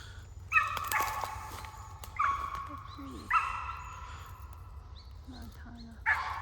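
A small dog yaps outdoors on a farm near a lantana bush, several sharp bursts of yips spaced a second or so apart at moderate distance, with quiet gaps between.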